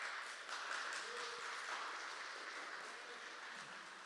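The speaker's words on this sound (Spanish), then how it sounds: "vamos a darle un aplauso de bienvenida" Welcome applause from a Sunday morning church congregation, a soft, distant, even patter of clapping that holds steady throughout.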